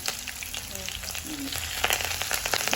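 Sliced onion, green chilies and curry leaves fry in a pan of hot oil for a tangy Telugu curry, giving a steady close crackling sizzle with a few light stirring scrapes, no voices.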